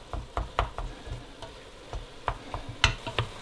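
Lean ground meat for a homemade Brunswick stew sizzles in a pan while a utensil repeatedly scrapes and chops it apart, giving irregular close knocks and stirring scrapes over a steady frying hiss.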